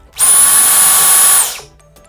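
A Dyson Cyclone V10 Absolute cordless stick vacuum on medium mode whirs on at a steady high-pitched whine for just over a second, then winds down and stops.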